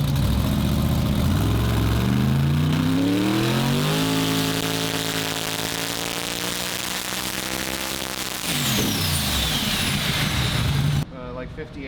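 The 4000+ horsepower Sorceress engine, its turbos spun up with CO2, rises in pitch on the dyno, then holds and drops back in a loud roaring sweep with a whining turbo tone, ending abruptly; a voice talks over the noise.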